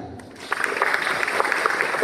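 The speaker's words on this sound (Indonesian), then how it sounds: "tepuk tangan." An audience at a religious sermon breaks into scattered applause that starts after a moment and carries on fairly steadily, with a voice faintly present underneath.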